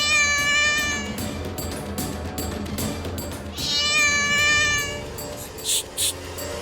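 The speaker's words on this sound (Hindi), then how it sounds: "शायद बिल्ली थी" A cat gives two drawn-out, wavering meows a few seconds apart, close and clear over a low background of indoor sounds.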